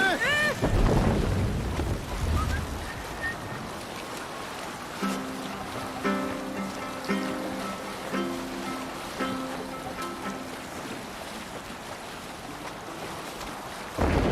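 A sailing boat cuts through sea waves in Assassin's Creed Valhalla, a steady broad wash of water and wind with faint tonal music and brief shouted voices over it.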